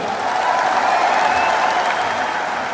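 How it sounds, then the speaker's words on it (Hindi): A large rally crowd gives loud, sustained applause, a steady dense wash of clapping that holds at constant strength throughout with no voices standing out. "एक बार इनके लिए भी जोरदार ताली हो जाए।"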